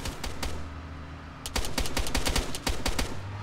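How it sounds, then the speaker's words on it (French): Bursts of rapid gunfire in the video game Arma 3 crackle in quick succession, a few isolated shots first, then dense automatic volleys, sharp and close, with no talking. "on a entendu des coups de feu"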